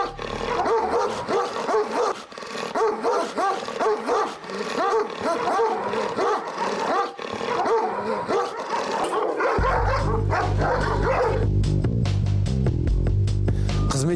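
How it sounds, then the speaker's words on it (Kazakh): Service dogs guarding a prison post bark rapidly and repeatedly, loud and close, with yips and whimpers mixed in; toward the end a low music bed rises beneath the barking. "Түзеу мекемесін қарауылдайтын жауынгердің айнымас серігі қызметтік иттер."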